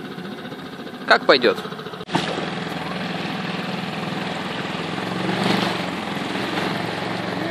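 A SEA-PRO 5 hp outboard motor on a small boat at sea, freshly warmed up, hums steadily at a moderate drone, close and continuous, after someone speaks briefly at the start.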